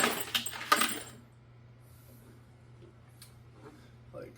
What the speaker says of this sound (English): I just dump the Evapo-Rust and all the parts into